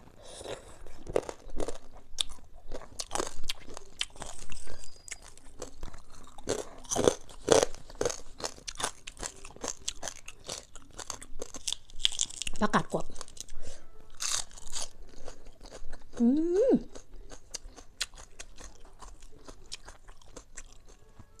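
Crisp deep-fried pork ear being bitten and chewed up close, repeated sharp crunches in an irregular rhythm with wet mouth sounds, and a short murmured voice partway through.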